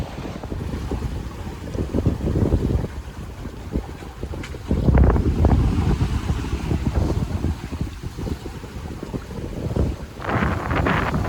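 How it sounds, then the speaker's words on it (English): Breezy wind rushes over a sailboat at sea, a constant loud buffeting roar against the microphone with gusty swells and wave wash underneath, no voices. "It's a little breezy."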